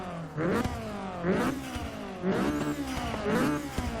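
A 2014 Honda Civic Si engine in Forza 6 revs hard in repeated surges, about four rising whines pulling up and dropping back, loud and close with no talk over it.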